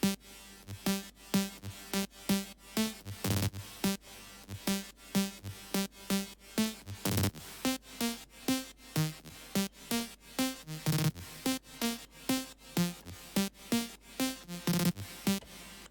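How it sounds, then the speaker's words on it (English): A future rave drop melody plays on a bright, punchy synth lead in a choppy, rhythmic pattern of stabbed notes, pumping steadily with a regular beat and no voices. "And the drop melody sounds like this."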